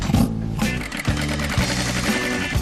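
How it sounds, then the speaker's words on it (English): Sewing machines stitching hospital scrubs in a busy production workroom during the COVID crisis, a steady loud whirring run of stitching with brief pauses and restarts throughout. "is madly cutting and sewing for the COVID crisis"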